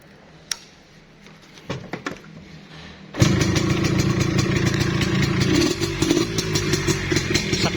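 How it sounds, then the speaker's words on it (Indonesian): A Yamaha RS100 motorcycle is turned over with a few clicks and clatters, catches at about three seconds and settles into a loud, steady close idle with a slight uneven burble. "Oke, kita coba tes engine."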